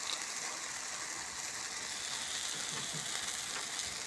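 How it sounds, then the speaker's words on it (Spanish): Eggs cracked into a hot pan with tomato fry with a steady, dense sizzle that holds at an even level throughout, close by and with no talking. "Y aquí le vamos a poner los huevos. Quebramos y se le echamos."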